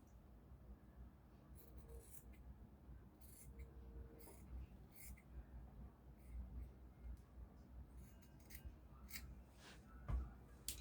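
Scissors cutting out shirt fabric, quiet close snips and soft crunching blade strokes in an irregular sequence against a low background.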